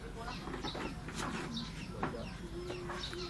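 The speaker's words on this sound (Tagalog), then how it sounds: "Quack! Quack, quack! Duck!" A few short, faint duck quacks sound at intervals outdoors over a steady background rumble, with a voice nearby.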